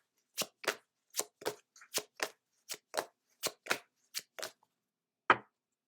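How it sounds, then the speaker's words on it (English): A deck of oracle cards is riffled and tapped in a quick run of about a dozen crisp, close flicks, then a pause and one sharper snap as a single card is drawn. "we're going to pull a card from the Work Your Light deck"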